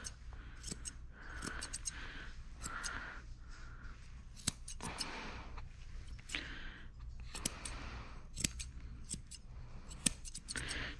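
Scissors snip repeatedly through the dirty, matted fur of a Shih Tzu during grooming, giving a steady run of close, crisp cutting clicks with no talking.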